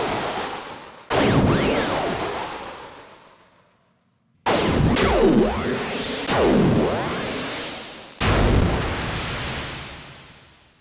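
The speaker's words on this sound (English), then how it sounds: "This is a big water impact." Big water impacts recreated with AI synthesis in Synplant 2, three loud crashing splashes that each surge in abruptly and fade into a hissing wash, separated by brief gaps of near silence.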